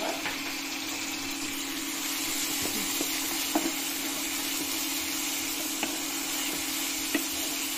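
Spiced chicken with pepper and garam masala is stirred in a pan, giving a soft, steady sizzle with a few faint scrapes over a constant low hum.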